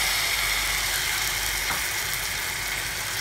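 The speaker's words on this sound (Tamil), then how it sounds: "தக்காளியை சேர்த்து கிளறி விட்டுக்கலாம்." Tomatoes sizzle and fry in a pan for spicy tomato chutney, a steady close hiss with light scraping as they are stirred, no voices.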